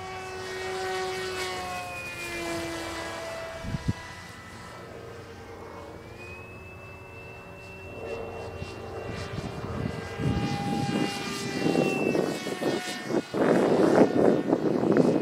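A radio-controlled F-22 Raptor model jet with thrust vectoring flies by, giving a steady whining engine tone that bends in pitch, grows louder and rougher toward the end, and heard from a distance without talk.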